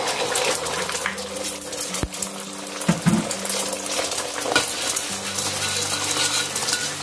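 Eggs stirred and fried in a pan for Indonesian scrambled egg orek, made with mushrooms: a close, continuous sizzle broken by spatula scrapes and clinks, with a sharp knock near the start and no talking.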